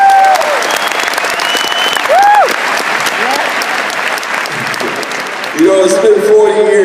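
A crowd at a ceremony honoring the 1973 New York Knicks championship team applauds steadily, dense clapping filling the space while voices call out and talk over it.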